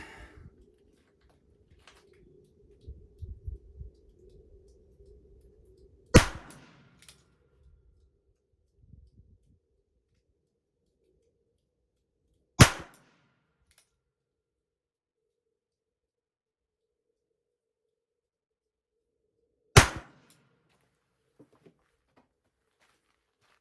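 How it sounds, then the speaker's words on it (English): Three sharp, loud shots from a Ruger Super Wrangler revolver ring out several seconds apart, each a single crack with a short tail, after a stretch of faint low rumble and handling noise. "I'm just gonna shoot 3 quick shots"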